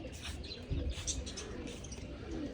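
Pigeons coo softly in low, throaty bursts, mixed with light chirps and a brief flutter of wings, fairly faint against background noise.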